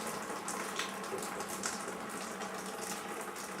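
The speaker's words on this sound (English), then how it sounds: "I am going to just siphon it out." Lager wort siphoned through a hose into a fermenter after hop removal, a steady close hiss of running liquid with soft gurgling, continuous and fairly even throughout.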